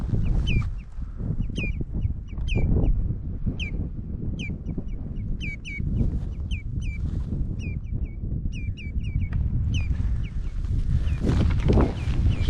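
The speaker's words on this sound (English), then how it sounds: "Hear those birds gobbing off and swooping me." Wild birds calling repeatedly in the Scottish Highlands near a river crossing on the Cape Wrath Trail, sharp chirps and whistles recurring in quick bursts over a steady, loud rush of water or wind.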